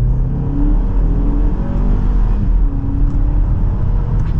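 A 2024 BMW X2 xDrive28i accelerating from second gear in low range, its engine a loud, steady drone with a rising whir and road rumble throughout, no voices over it.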